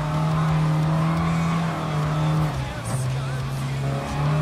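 A first-generation Mini Cooper racing in Gran Turismo Sport, its engine holding a steady loud drone that dips briefly between gears before settling again, with a brief tyre squeal and a voice talking over it.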